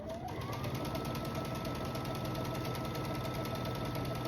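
A sewing machine runs continuously, stitching a quilt-block seam at quarter inch with a steady rapid mechanical whir, close and fairly quiet, no talk.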